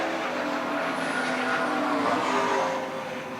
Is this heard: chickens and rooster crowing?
no